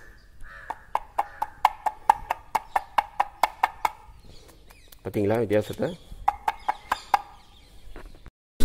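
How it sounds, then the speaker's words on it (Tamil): Carved stone pillars at the Thiruvidaimarudur Mahalingeswarar temple are tapped in a quick, even series of bright, ringing knocks. A person speaks briefly in the middle, then a few more taps follow. "அது இங்கே தட்டும் போது அது கேட்காது, இங்கே தட்டும் போது நல்லா கேட்கும்."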